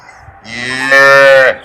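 A single loud, drawn-out moo from a Rajasthani cow, rising in strength and holding steady before cutting off, heard up close with no talking.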